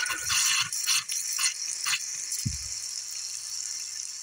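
Hot water runs from a bathroom sink faucet, hissing and splashing with uneven surges in the first two seconds before settling into a steadier, quieter flow, punctuated by one brief low thump.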